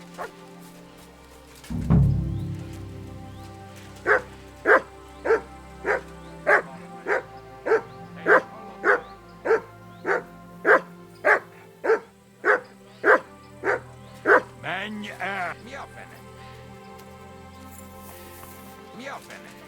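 A dog in the Kingdom Come Deliverance II video game barks repeatedly in a steady, evenly spaced series of sharp, loud barks, close by, after a low thump at the start.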